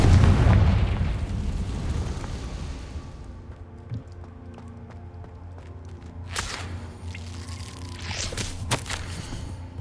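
A Confringo blasting spell in the Hogwarts Legacy video game lands with a heavy, booming explosion up close. The blast fades over a few seconds into a rumbling tail, followed by scattered cracks and sharp smaller pops.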